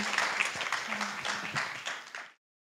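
A short burst of scattered applause from a small crowd at a university press forum awards ceremony, clapping for about two seconds before cutting off abruptly.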